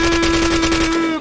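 Automatic gunfire in the online shooter Red Crucible: Firestorm, a loud, fast, continuous burst of rapid shots lasting about a second before cutting off.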